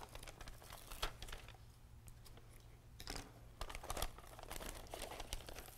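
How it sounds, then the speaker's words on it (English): Adhesive backing peels off a small paper sticker made with a Xyron edge-to-edge adhesive on Bazzill cardstock, giving faint close crinkles and crackles with a few soft ticks, quiet throughout. "Peel off the back, and I've got my cute little instant sticker"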